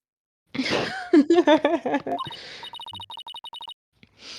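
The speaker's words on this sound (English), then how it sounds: "I just sneezed." A cartoonish sneeze from a game character's silly voice, a loud vocal burst followed by choppy syllables, then a short run of repeating electronic beeps.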